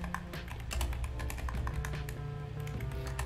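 Rapid, steady clatter of typing on a computer keyboard, close and fairly loud, with many overlapping key taps and no talking.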